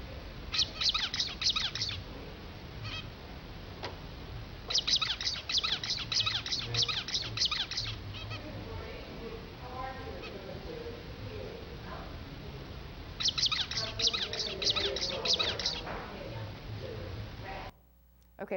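A played recording of zebra finch song repeats the same short, buzzy chirping phrase in bursts with quieter gaps between, the motif returning several times, with low room sound and brief talk under it.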